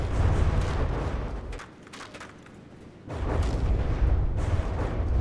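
Anti-air guns blazing in the naval combat game From the Depths, a loud dense roar of continuous firing that drops briefly to a quieter rumble before surging again.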